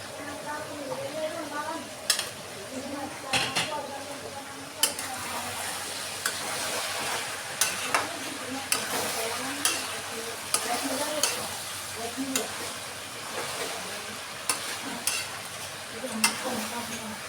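Eggplant pieces are stirred in a frying pan for an eggplant and tomato curry, with a soft continuous sizzle and repeated spatula scrapes and clinks against the pan at an irregular pace.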